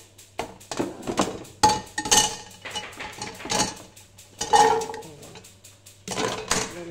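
A metal cooking pot clanks and knocks as it is handled in a home kitchen during snack preparation, giving a few sharp close clatters amid quieter shuffling and handling noise, with no talking.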